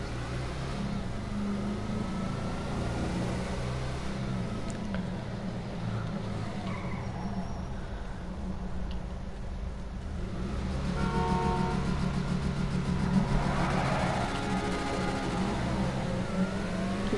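A powered-up car with weak brakes drives in a GTA roleplay game, its engine droning continuously while tires skid and scrape, growing louder and busier toward the end.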